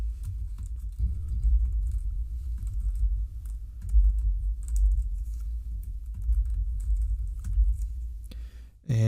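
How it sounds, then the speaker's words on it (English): Typing on a computer keyboard, a steady patter of close key clicks over a low room hum, running for several seconds without speech and ending in a brief louder burst. "So I'm going to type this in."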